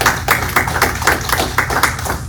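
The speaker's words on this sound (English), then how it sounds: "So a round of applause for all of you." Audience applause at a town hall meeting: a small crowd claps steadily at close range, with fairly distinct hand claps repeating throughout and no voices.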